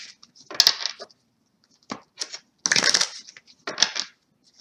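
Crystal Visions Tarot cards are shuffled in several short bursts of crisp, riffling card noise, close and fairly loud, separated by brief pauses.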